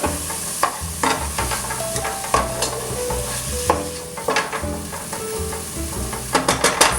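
Onions fry in a pot for a one-pot vegan chili, sizzling steadily and close while a spoon scrapes and stirs through them in irregular strokes, getting busier toward the end, with no talk.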